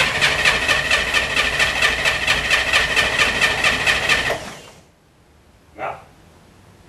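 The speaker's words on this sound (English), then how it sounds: "Crank her up! Fuel pump starts up." A Can-Am Spyder cranks over with a steady, fast, loud starter whir for about four seconds, then cuts off, leaving quiet with one short faint sound afterward.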